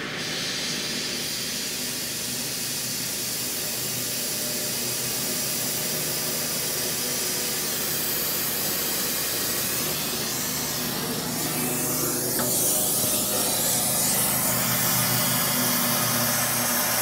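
A torch heating a bolt on a 60-year-old New Holland Super 78 wire tie baler gives a loud, steady, roaring hiss that stays close and unbroken throughout and swells a little near the end.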